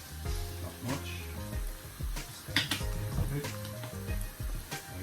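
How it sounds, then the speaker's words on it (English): Beef mince being stirred through tomato sauce with a little ketchup in a pan, giving a steady low sizzle broken by repeated scraping and clinking from the utensil against the pan, close and with no talking. "Just going to stir this around now."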